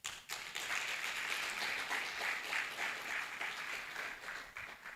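Audience applause at a live-streamed talk show, a steady wash of many hands clapping that starts abruptly and holds at an even level for several seconds before tapering slightly, moderately distant with no voices over it.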